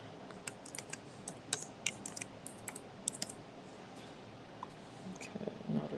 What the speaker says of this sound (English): I gotta type this in again.